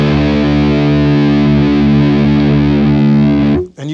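Distorted electric guitar chord sustains loud and steady for about three and a half seconds, its strings slightly out of tune so a wavering beat runs through the tone before it cuts off abruptly.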